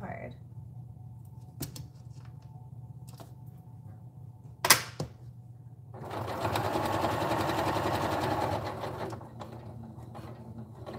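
A sewing machine stitches a blanket, first idling with a few clicks and thumps, then running in a dense, steady whir for about three seconds before stopping, with quiet talking in the room.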